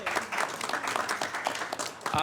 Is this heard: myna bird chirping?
no